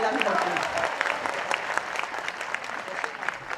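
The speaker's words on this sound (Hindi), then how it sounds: "तो ताली बजाइए जोर से बजानी पड़ती" Loud crowd applause breaks out at a Hindi poetry recital in Bhopal, a brisk burst of many hands clapping close and full, fading slightly toward the end.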